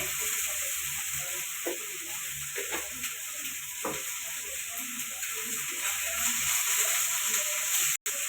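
Cluster beans fry in hot oil with salt, a loud, steady sizzle close by with occasional stirring scrapes and taps, broken by a sudden cut just before the end.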